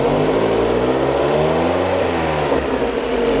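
A high-mileage Chevrolet Corsa Classic engine with over 170,000 km idles smoothly and quietly, a steady, even hum running unbroken without any speech.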